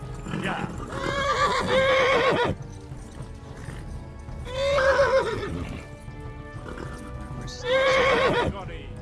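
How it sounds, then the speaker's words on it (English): A horse in the Kingdom Come: Deliverance video game whinnies three times in loud, drawn-out neighs, with hooves clip-clopping underneath and a voice talking between the calls. "Horse is acting up."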